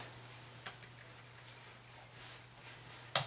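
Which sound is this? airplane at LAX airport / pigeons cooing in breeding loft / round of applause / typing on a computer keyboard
typing on a computer keyboard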